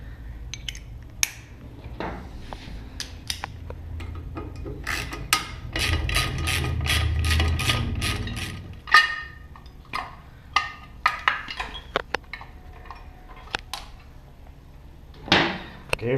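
Hand tools click and ratchet while an ignition coil is removed from a motorcycle during a ThunderMax install, with close, irregular metallic ticks, a ratchet run in the middle and sharp clacks of parts being handled.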